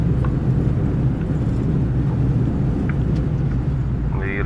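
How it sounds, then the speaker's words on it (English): Steady loud broadband roar of an Airbus A320neo airliner in a flight simulator rolling out after landing, thrust reversers deployed and autobrakes working, a continuous low rumble with faint brief clicks on top. "reversers are out, find the center line. We're not braking manually,"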